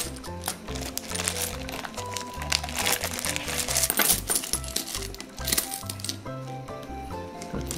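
Small coins from various countries are handled and dropped, giving dense clinking and jingling metal clatter close by, continuous and busy over background music.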